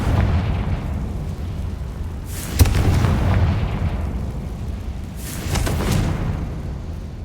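Fire-blast spell from Hogwarts Legacy, cast twice as sharp bursting blasts with rumbling low tails over a constant background drone, with no voices.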